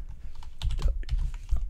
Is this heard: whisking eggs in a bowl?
no